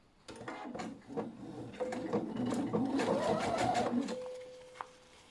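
A sewing machine stitches a textile cover for a salad bowl, whirring in a steady close run of a few seconds after brief starts, then stopping with a small click.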